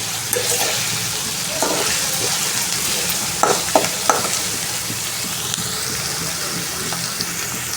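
Prawns for a prawn thokku sautéing in a frying pan, a steady loud sizzle with occasional stirring scrapes and clinks of a spoon against the pan, close and continuous.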